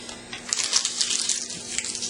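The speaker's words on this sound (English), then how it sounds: "Crumple them all up." Paper is crumpled close up in a quick series of crisp, crackling crinkles over a couple of seconds.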